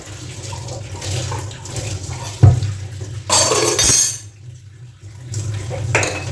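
A kadhai, an Indian wok, is washed at a home kitchen sink as tap water runs and metal clatters. There is a clear gush of running water in the middle, with scraping and knocks of the pan before and after.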